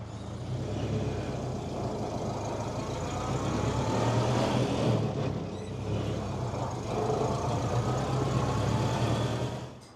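A 1928 Ford Model A Phaeton drives along with a steady, loud engine drone and road rumble, the note swelling slightly midway, with no talk over it.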